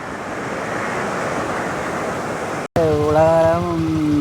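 Floodwater rushes through a culvert and out to the sea in a continuous broadband roar of churning water, cut off abruptly by a tonal, whistling noise after a short break.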